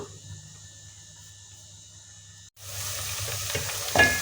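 Chopped onion hitting half a cup of hot oil for aloo keema: after a quiet stretch with a faint hum, a sudden steady sizzle and crackle starts and keeps going, close and fairly loud.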